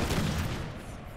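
A brief, rolling volley of musket fire from massed ranks in Napoleonic: Total War 3 crackles loudly and then quickly decays.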